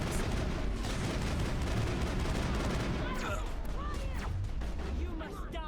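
Rapid bursts of gunfire rattle through a Mass Effect firefight, dense and continuous at moderate loudness, with sharp sci-fi energy zips and whooshes layered over the shooting in the second half.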